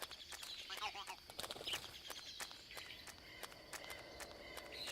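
Keraton bird calling in the jungle of the video game Metal Gear Solid 3, short chirping bursts over a rustling, insect-filled ambience with scattered footstep-like crunches.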